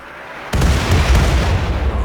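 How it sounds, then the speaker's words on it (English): Mortar shells exploding in the RimWorld video game: a sudden heavy boom that rolls into a sustained rumbling blast lasting about a second and a half. "2 mortars land atop them"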